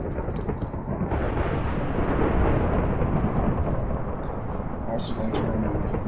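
Thunderstorm in the video game Minecraft: a loud, steady wash of heavy rain runs through the whole stretch, with a deep rumbling undertone of thunder and a few brief bright crackles.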